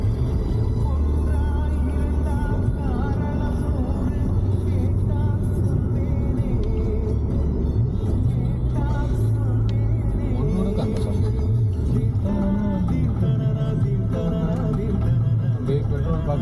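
A jeep grinds along a forest track in Kerala, its engine a steady close rumble with shifting pitch as it climbs and bumps over rough ground, continuous throughout with faint voices now and then.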